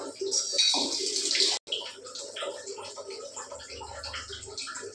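Millet rice being washed by hand in a bowl of water in a home kitchen, with swishing, splashing water for about a second and a half, a brief pause, then softer sloshing and rinsing close by; no talk.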